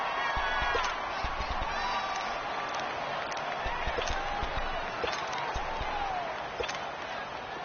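A football stadium crowd at a Panthers vs Saints game holds a steady, loud roar through the whole stretch, with a commentator talking over it and a few faint thumps and claps mixed in.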